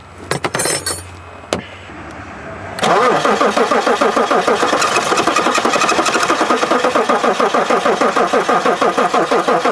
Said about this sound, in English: I'm gonna have Matt crank the engine for us